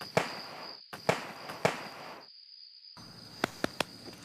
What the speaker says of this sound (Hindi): पटाखे, कोई पटाखे फोड़ रहा है।